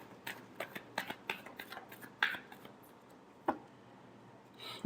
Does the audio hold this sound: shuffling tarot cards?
yes